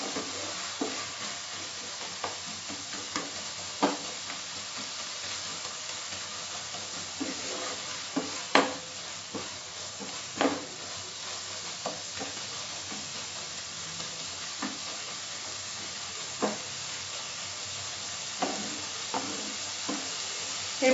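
Spicy tomato crab with softening tomatoes sizzling in a hot pan, a steady loud frying hiss punctuated by scrapes and clacks of stirring at irregular intervals.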